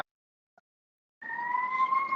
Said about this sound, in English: You can hear there's a fire truck going by